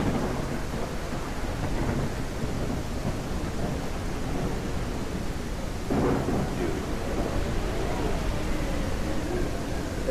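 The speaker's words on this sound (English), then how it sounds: "Oh my gosh, there's actual thunder." Thunder rolling through a windy rainstorm near a pond, a low rumble over steady rain with a louder crack about midway.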